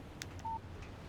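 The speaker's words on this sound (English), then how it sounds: "Text message from Barry." A short electronic phone alert tone from Alan Wake Remastered, a single steady beep standing alone over a faint low background hum.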